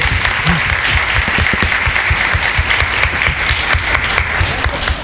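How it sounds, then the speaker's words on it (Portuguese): An audience at a regional psychology and public-policy seminar gives steady, full applause, a dense continuous wash of clapping with no voices on top. "Palmas para a Alessandra."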